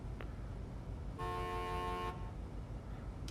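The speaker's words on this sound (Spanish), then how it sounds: "Su bocina." A modded expedition vehicle in the video game SnowRunner sounds its horn in one sustained, loud honk lasting about a second, over a steady engine rumble.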